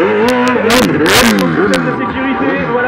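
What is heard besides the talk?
quad bike with Yamaha R1 engine revving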